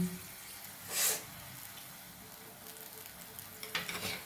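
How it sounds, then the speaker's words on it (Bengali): Ground spices in a pan with a little oil and water for a katla fish-head dal sizzle softly, with a short burst of hiss near the start and stirring scrapes toward the end, no talk. "মশলাতে সামান্য পরিমাণে তেল দিয়ে সামান্য পরিমাণে জল দিয়ে দিলাম।"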